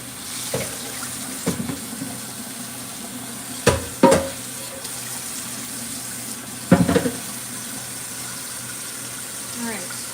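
Tap water runs in short bursts into a sink while a pan is washed, with clanks and splashes and a person talking quietly in between.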